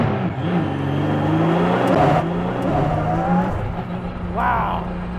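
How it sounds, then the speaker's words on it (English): Ford GT Mk IV race car heard from on board during a ride, its engine droning loud and steady with rising and falling pitch as it accelerates, with excited voices over the top. "First ride in a Ford GT Mark IV."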